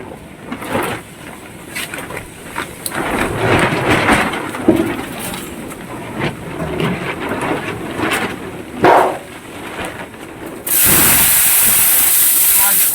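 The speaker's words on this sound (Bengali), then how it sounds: "প্রচণ্ড ঝড় বৃষ্টি হচ্ছে" Heavy storm from Cyclone Remal, with wind-driven rain hissing and rumbling in uneven gusts while a person talks, ending in a loud, steady wash of downpour.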